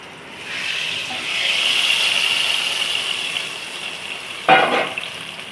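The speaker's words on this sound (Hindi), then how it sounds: "अब लगा दिया अपनी कढ़ी पे तड़का" Hot tempering of oil with green chilies, round red chilies and cumin sizzles steadily as it is poured over Punjabi kadhi pakora, a loud continuous frying hiss that swells and lingers, with a sharp splash-like burst near the end.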